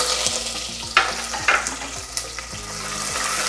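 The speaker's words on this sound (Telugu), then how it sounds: "ఆనియన్ కొంచెం వేగాలి" Onions and garam masala whole spices frying in a pan for coriander biryani, a continuous close sizzle with a few sharp scraping stirs and clatters of the spoon.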